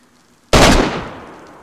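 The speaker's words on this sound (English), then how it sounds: "He's shooting at me." A single loud gunshot cracks out during a video game battle at an airfield, a sharp close burst that decays over about a second.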